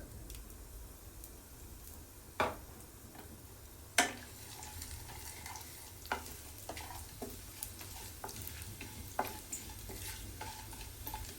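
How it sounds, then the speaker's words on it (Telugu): Dried red chillies and lentils frying in a pan for a chutney, a faint, quiet sizzle punctuated by irregular sharp taps and stirring clicks of a spoon. "ఈ మిరపకాయలను వేసుకొని ఫ్రై చేసుకుందాము"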